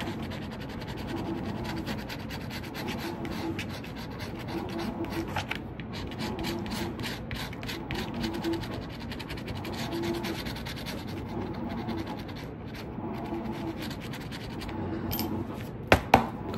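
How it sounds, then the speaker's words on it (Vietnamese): A coin scrapes steadily across a lottery scratch card, a continuous dry rasping scratch in repeated strokes, close and moderately loud, with no voices. "Lấy đồng tiền cạo cho nó ngon."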